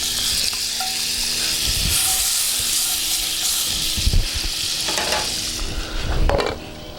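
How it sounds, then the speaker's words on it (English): Half a stick of butter melts in a hot pan, giving a steady, fairly loud sizzling hiss throughout with a few soft scrapes and clinks of a utensil, no voices. "To that, I'm going to add a half a stick of butter. Put that in there. I'm going to let that melt."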